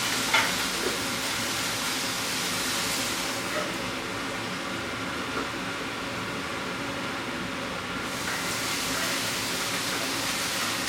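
Meat and garlic frying in a pan make a steady, close sizzle that carries on without pause, with faint stirring and kitchen clatter mixed in.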